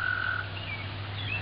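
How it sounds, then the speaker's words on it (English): Toads trilling in a garden yard among blooming gold flame spirea, a sustained high-pitched trill carrying alone over a steady low hum, fairly close and moderately loud with no talking. "Toads are singing since I walked away."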